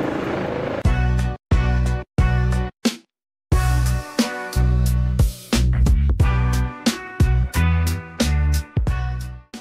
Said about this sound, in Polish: No i helikopter zawisł.